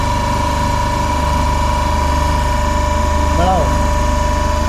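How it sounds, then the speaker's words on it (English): A DC motor driving an alternator at 1500 rpm drones steadily and loudly with a constant tonal hum and pulsing vibration throughout, while a voice briefly speaks over it. "So we'll start the DC supply on the DC motor. Maintain the speed to be 1500 rpm."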